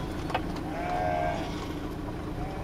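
A large herd of sheep bleating across an open area, a continuous mass of overlapping bleats over a low rumbling background, with one clearer drawn-out bleat standing out midway.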